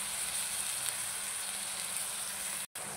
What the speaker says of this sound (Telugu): వంకాయ నూనెలో మగ్గించాము.